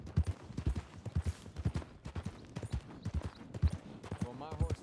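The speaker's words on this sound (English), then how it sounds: "You might want to stable your horse. Yeah, he's a bit jumpy." Horse hooves clip-clop at a steady walking rhythm in a Wild West roleplay video game, while people talk over the footsteps.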